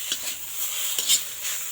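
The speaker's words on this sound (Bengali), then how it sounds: "এটা দেওয়ার পরে কিন্তু এটা ভালো করে আরও নাড়িয়ে নিন" Roti chowmein with masala being stirred in a pan, light repeated scrapes and soft clinks over a continuous bright frying sizzle.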